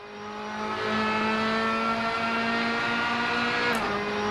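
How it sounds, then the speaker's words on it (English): Ginetta G55 GT3 race car engine in the Assetto Corsa racing game, a steady, loud sustained drone with clear harmonic tones, holding near-constant revs with a brief dip near the end; no talk. "The engine noises in AC are often not great."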